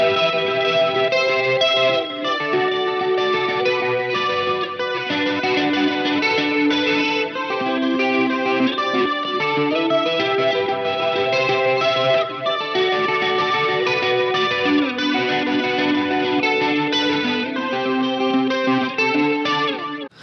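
An electric guitar plays a continuous riff through a Helix modeler, drenched in swirling Electric Mistress-style flanger, echoing tape delay and reverb, loud and steady throughout.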